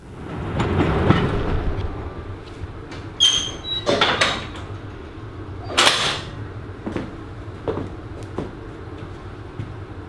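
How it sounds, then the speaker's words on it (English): A train pulls away from a heritage railway station at Toddington with a low rolling rumble, punctuated by several sharp metallic clanks and squeals as the cars move off past signals. "Keeping an eye on the departing train and watching its progress past signals."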